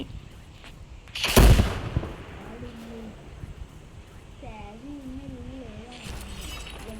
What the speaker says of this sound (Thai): น้องระเบิดบ้าน